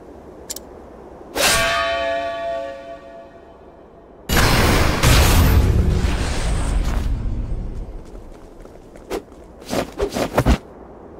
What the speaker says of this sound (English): The bell heralds your defeat.